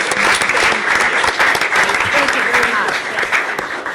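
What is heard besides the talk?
applause at city council meeting for the library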